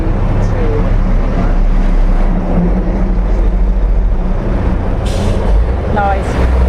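Lorries rumble past on a nearby road, a steady low engine drone with a brief hiss like an air brake near the end, fairly close, while people talk in the background.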